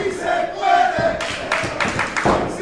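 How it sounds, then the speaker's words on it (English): A wrestling crowd at a live 1985 event roars and cheers in loud, sustained waves, with bursts of shouting swelling and dipping across the arena. "The crowd is on fire"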